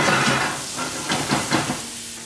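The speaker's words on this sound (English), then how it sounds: "I'm just going to pour the rest of the marinade now, or some of it, just over the top" Marinade poured over Cornish sardines cooking in a hot pan, giving a loud, close hiss and crackle that swells in a few bursts, then eases off.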